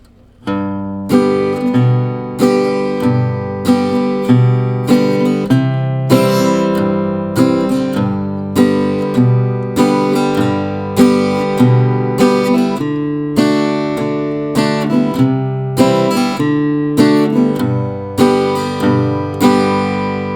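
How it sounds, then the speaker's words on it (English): An acoustic guitar strums open cowboy chords in a steady, loping eight-bar blues progression, bright and ringing, with no voices. "That's just playing it with normal cowboy chords"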